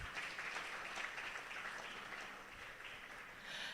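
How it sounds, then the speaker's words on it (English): An event audience applauding a speaker, a soft steady wash of clapping heard from a distance, continuous and fairly quiet with no talking. "A round of applause for him, please."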